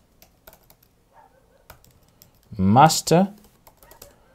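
Typing a git push command on a computer keyboard, a few light, sparse key taps before and after a short spoken word in the middle.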